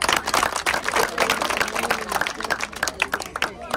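An outdoor village crowd at a cricket-bat football game claps in a quick, dense patter of many hands, loud and close.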